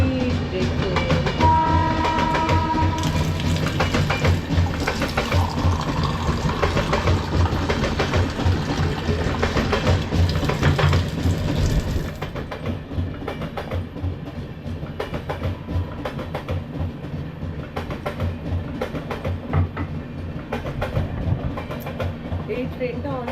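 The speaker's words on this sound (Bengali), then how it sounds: "এই ট্রেনটা অনেক দূর থেকে আসছে" A long-distance train passes close by, its engine and wagons rumbling with a steady rail clatter that stays loud throughout, then eases a little partway through.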